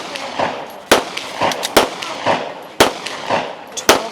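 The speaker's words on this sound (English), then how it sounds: "Last iteration of pistol here." Rapid pistol shots fired on a tactical shooting stage at a women's regional match, sharp loud cracks in quick bursts of two or three with echoing tails and a busy outdoor background.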